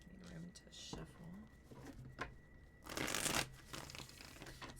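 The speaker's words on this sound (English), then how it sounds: "Need room to shuffle." Tarot cards shuffled on a table, a soft papery riffling and shuffling that swells into a brief louder burst of card noise, close and fairly quiet with faint background sound.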